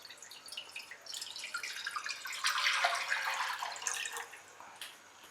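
One litre of milk is poured into a wok, giving a soft, continuous splashing and trickling of liquid that builds in the middle and then tapers off, quiet and alone.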